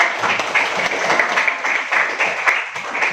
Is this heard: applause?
yes